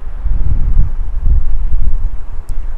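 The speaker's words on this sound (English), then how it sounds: "So the river's loud, can't really hear beyond the river." A loud river rushes steadily close by while wind buffets the microphone in gusts, a constant low roar with no voices.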